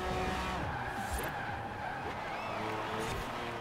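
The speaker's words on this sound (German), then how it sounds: "Das ist ein alter Ford GT. Mit einem sehr komischen Motorsound." Old Mark 1 Ford GT in Forza Horizon 4, a steady engine roar mixed with tire skidding and squeal, continuous and fairly dense throughout.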